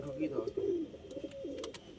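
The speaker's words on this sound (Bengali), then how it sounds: "ভাই বাচ্চা পায়রাটা ছাড়লো" A baby pigeon from a Kolkata loft coos in soft, short warbles, close and fairly quiet, with brief chirps and background voices around it.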